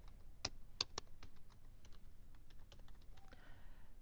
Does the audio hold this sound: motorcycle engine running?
no